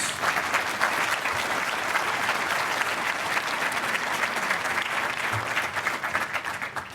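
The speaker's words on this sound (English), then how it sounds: "Give them a warm round of applause." An audience gives a warm, sustained round of applause for standing trustees at an opening-remarks event, dense clapping steady throughout and tapering slightly at the end.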